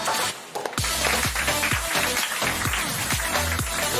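Crowd applause for a fourth-place team at an esports league playoff event, a dense, continuous wash of clapping that swells after a brief lull and stays loud throughout, with music thumping underneath.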